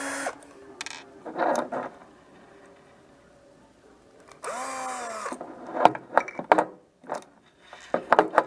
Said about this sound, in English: Center it, drill it